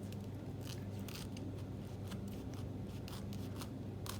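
A knife cuts into a pineapple for fried rice with prawns in a run of quiet, close, crisp scraping cuts, irregular short strokes over a low steady background hum.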